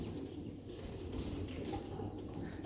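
Soft fluttering of pigeon wings over a steady low rumble, with a few faint coos; no one speaks.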